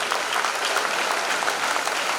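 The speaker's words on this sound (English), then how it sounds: "I request everybody to welcome him with a big round of applause." An audience at a school annual day claps in a big round of applause welcoming the school chairman, a dense, steady wash of many hands close by, with no voices over it.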